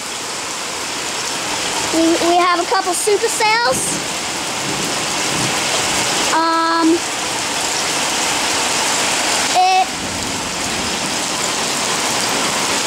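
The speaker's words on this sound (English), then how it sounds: "We got a bunch of little hail falling." Small hail patters and hisses in a dense, continuous wash during a supercell hailstorm, with someone talking briefly over it at a few points.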